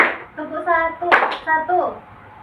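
Children clap hands in a counseling session, a few short claps mixed with a leader's voice and children's speech nearby.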